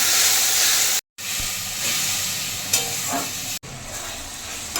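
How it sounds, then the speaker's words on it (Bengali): Ginger, garlic and green chili paste goes into a pan of fried onions and potatoes and sizzles with a loud, steady hiss, broken by two short silent gaps, with no talking. "এখন আদা রসুন কাঁচা লঙ্কা পেস্টটা দিয়ে দেবো।"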